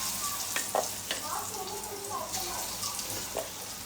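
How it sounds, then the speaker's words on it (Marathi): Onion bhaji batter fries in hot oil with a steady close sizzle and bubbling, broken by occasional clinks and stirring, while someone talks faintly over it. "भजी घालते हे"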